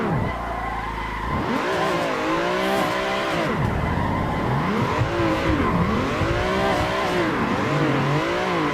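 A car drifting in Assetto Corsa, driven with a Fanatec ClubSport RS steering wheel, engine revving up and down in sweeping waves while tires squeal continuously through repeated slides, loud and close, with no talk.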